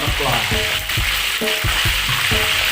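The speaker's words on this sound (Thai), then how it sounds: "ขอทอดปลาสักแป๊บ" Pomfret frying in hot oil sizzles loudly and continuously, with repeated short bubbling bursts, near and alone.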